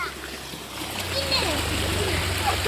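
Water splashing and gurgling in a flowing stream, close by and steady, with a voice faintly in the background.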